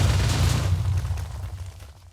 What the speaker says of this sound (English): There's a landmine. And explosion.